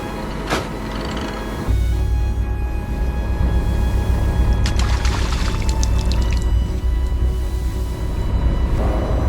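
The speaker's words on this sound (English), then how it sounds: "tons of fresh fish poured down, filling the hold" Tons of fresh fish pour from a net into a fishing boat's hold at sea: a heavy, continuous rushing pour of wet mass tumbling down, loud and steady for several seconds after a brief quieter start.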